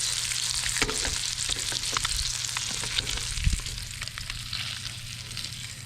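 Largemouth bass fillet frying in a pan, a steady, loud hiss and crackle of sizzling oil running throughout with a soft clunk partway through.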